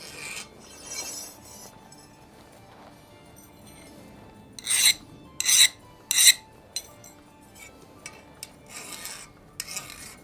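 Metal file rasps across an original steel bar in a few bright, hissing strokes, three loud ones in quick succession among fainter scraping, close and without speech.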